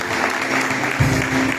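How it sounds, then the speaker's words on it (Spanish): Congregation clapping for the Lord during a Spanish-language evangelical church service, a dense broadband patter of many hands with a louder surge about two-thirds through, steady and close throughout. "Denle un fuerte batido de palmas al Señor."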